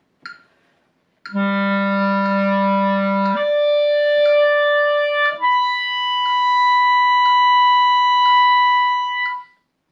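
Clarinet holding long sustained notes as a warm-up, with a soft metronome clicking steadily at about one beat per second underneath; the tone is clear and loud, with no talking.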